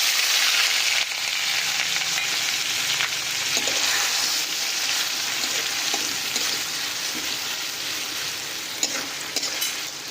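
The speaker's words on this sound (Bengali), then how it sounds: "তারপরে দিয়ে দিচ্ছি বেটে রাখা পেঁয়াজ।" Ground onion paste hits hot mustard oil already tempered with nigella seeds and dried red chillies, giving a steady, dense sizzle that runs close and continuous, easing slightly after the first second.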